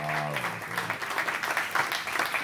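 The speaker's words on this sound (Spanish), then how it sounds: "Otra vez un fuerte aplauso a" Applause for a salsa musician during a podcast recording: a small group clapping steadily and fairly close, with a voice briefly audible at the start.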